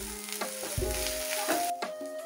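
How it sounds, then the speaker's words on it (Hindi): Ginger garlic paste sizzles with onions in a hot pan for a restaurant-style chicken curry, a dense steady crackle with occasional stirring scrapes, close and moderately quiet, no talking. "एक चम्मच अदरक लहसुन का पेस्ट डालेंगे, अच्छे से इसे कच्ची स्मेल जाने तक भून लेंगे।"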